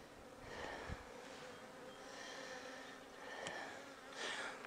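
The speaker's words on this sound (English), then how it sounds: "You can see a lot of bees down in the bottom box." Honey bees buzz steadily in an open hive box during a spring inspection, a soft continuous drone with faint rising and falling swells and no voices.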